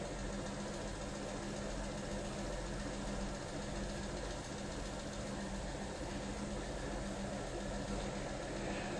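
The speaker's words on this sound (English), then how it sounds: "And now, there it is with the motor running." An electric motor runs steadily during a voltage and current test on a magnetic neutralization rig, giving a continuous loud drone and hum that stays even throughout with no pauses.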